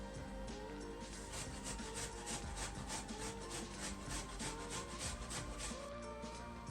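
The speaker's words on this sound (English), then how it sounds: "let me grate the ginger" Fresh ginger being grated by hand, a steady run of rapid rasping strokes, close and fairly loud, with no talking.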